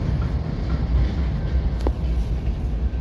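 A unit train loaded with grain rolls by in Nebraska, a steady rumbling rail noise with faint clicking wheels, continuous and moderately near with no voices.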